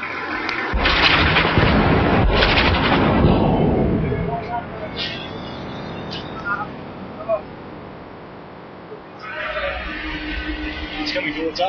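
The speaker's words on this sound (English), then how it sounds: "As we depart, the first rounds come hurtling overhead." Incoming Indian artillery rounds at Siachen: a loud rushing roar for the first few seconds, dying away into quiet with faint scattered noises, then a softer rumble returning near the end; no speech.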